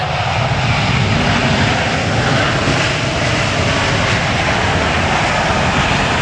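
Airliners taking off from the north runway at LAX in Los Angeles, a loud, continuous, broadband jet engine roar close by, steady and overwhelming throughout without any voices.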